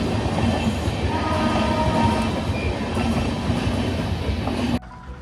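A train rolls past a railway level crossing on a Kerala road, its steady loud rumble of wheels and cars filling the scene until it cuts off abruptly near the end.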